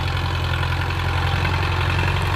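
A tractor's steady, low diesel engine rumbles continuously at idle, close by and loud, with a rough knocking throb and no voices, while clearing land for rice fields.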